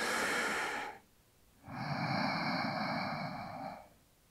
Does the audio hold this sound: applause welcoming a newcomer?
no